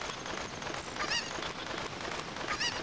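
Squawking cucco chicken calls from Zelda: Ocarina of Time, two short harsh honking bursts over a busy game backdrop of rushing waterfall noise.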